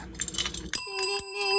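A small hand bell is rung close by after some shuffling handling noise, giving a few bright struck tones whose ringing hangs on and overlaps.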